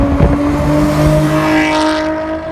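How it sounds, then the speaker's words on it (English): Nissan 350Z with its stock 3.5-litre V6 fitted with an aftermarket exhaust, revving loudly and close by in a single sustained rising-and-falling pull, with no talking over it. "They sound amazing with an exhaust."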